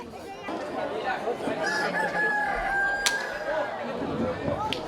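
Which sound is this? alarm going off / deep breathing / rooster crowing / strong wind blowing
rooster crowing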